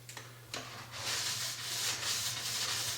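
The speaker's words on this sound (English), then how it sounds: "Quick one, deburring it." A ski edge being deburred along the base during sidewall edge tuning, a steady close-up scraping rub that runs continuously with slight surges, preceded by two brief strokes.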